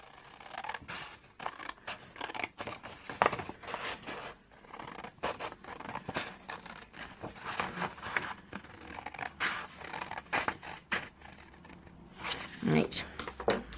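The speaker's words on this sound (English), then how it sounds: "you want to cut from the bottom up to the third score line" Scissors snip repeatedly through patterned craft paper cut along score lines for a small mini album, a run of crisp close cutting and rustling strokes, with occasional light paper handling between cuts.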